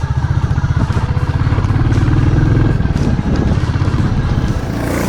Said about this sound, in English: So we're riding the new Classic 350,